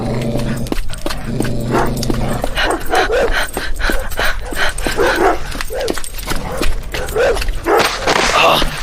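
Fierce dogs bark and yip in a rapid, continuous frenzy, loud and close, several animals overlapping in a dense, aggressive chorus with a low growling tone at the start.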